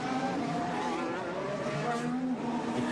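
Sergio Perez's Red Bull Formula 1 car running on the Monaco street circuit during 2022 Grand Prix practice, a steady, dense high-pitched engine whine that holds throughout.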